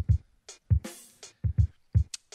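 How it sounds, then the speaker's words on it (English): Live-played drums in a beat: punchy kicks, snappy snares and a sustained crash ring out in a loose, steady pattern, loud and close with no voices. "So if we go to the drum pattern"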